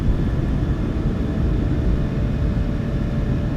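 Twin jet engines of a PMDG 737-800 roar at takeoff power in Microsoft Flight Simulator 2024, a steady, heavy broadband rumble that holds constant and loud throughout.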